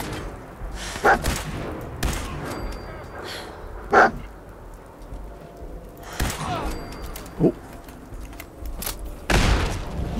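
A frag grenade blasts in a Fallout 4 firefight against gunners and turrets, among several heavy booms and bursts at irregular intervals, separated by quieter stretches with faint breathing-like sounds.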